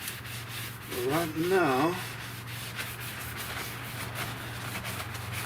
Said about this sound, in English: you just want to scuff this, guys, till it's dull